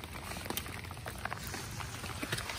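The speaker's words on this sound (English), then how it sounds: "See, it's raining. The raindrops." Rain patters steadily, many small drops tapping close by in a dense, irregular crackle with no voices.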